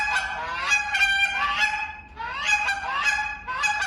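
A goose call honks in repeated nasal moaning notes during a live goose calling contest, two loud runs separated by a brief pause, close and clear with no talking.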